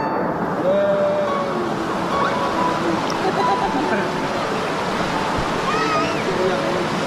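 Steady rush of a running stream, constant and fairly loud throughout, with faint bird calls or chirps flickering above the broad watery noise.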